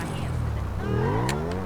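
A KTM RC 390 motorcycle engine in Grand Theft Auto V drones steadily, its pitch climbing as it revs up partway through, with a buzzy, layered tone throughout.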